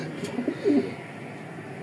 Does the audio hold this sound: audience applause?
no